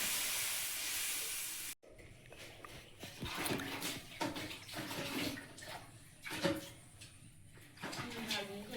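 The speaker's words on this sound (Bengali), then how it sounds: "জল দিয়ে দেবো" Water pours into a cooking pot in a loud, steady rushing hiss for a couple of seconds and then stops abruptly, followed by people talking over faint kitchen noises.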